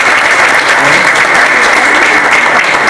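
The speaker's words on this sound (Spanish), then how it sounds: "creo que merece un aplauso adicional" Loud, close, dense applause for a pianist who brought his own instrument to a tribute ceremony for the poet César Vallejo, with a sustained even clatter of many hands throughout.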